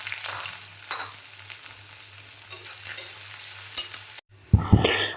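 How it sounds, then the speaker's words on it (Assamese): Chopped onions fry in hot oil with a soft, continuous sizzle and the occasional scrape of stirring, then a sharp clatter and louder sizzle near the end. "এইফালে মই অলপ এতিয়া পিঁয়াজ কাটি থৈছিলোঁ, ইয়াত আগতে তেলত দি দিলোঁ"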